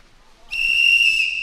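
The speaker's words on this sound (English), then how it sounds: "Whistle blows, players hop into the water." A referee's whistle sounds at a Euroleague underwater rugby game, one loud, sustained shrill blast starting after a short quiet gap and lasting nearly a second, alone without talk.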